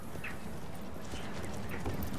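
Horse hooves clip-clopping in the medieval strategy game Manor Lords, a few soft, faint hoofbeats spaced irregularly over a quiet ambient background.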